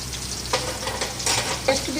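Garlic and ginger paste fries in hot oil in a pan while making chicken macaroni, giving a steady close sizzle with a few louder stirring scrapes and bursts, and no voices.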